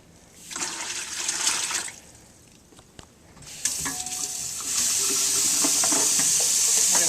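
A plastic urine measuring container is rinsed under running water at a sink: broadband splashing comes in two bursts, then a steady, close hiss of flowing water fills the end.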